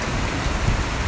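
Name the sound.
hail and rain falling outdoors in Rawalakot, Kashmir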